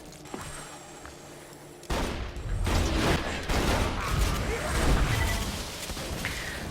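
Triple-barrel bandit shotgun in Borderlands 3 firing repeatedly, loud blasts with heavy low-end booms rolling over each other amid busy game noise, starting about two seconds in after a quieter stretch.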